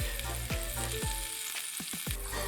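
Food fries in a pan with cheese, salt, grilling seasoning and milk while a utensil stirs it, a steady close sizzle broken by about eight sharp scraping strokes, some in quick succession.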